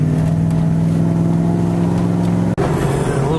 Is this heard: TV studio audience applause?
no